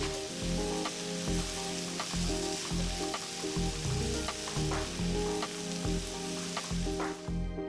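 Salt, asafoetida powder and fresh curry leaves frying in hot oil in a pan for millet upma, a steady close sizzle with a soft rhythmic scraping of stirring throughout.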